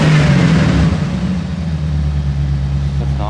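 A tuned hot rod engine runs steadily from around the rear of the car, a loud close rumble that rises in a brief rev at the start and then settles to an even idle.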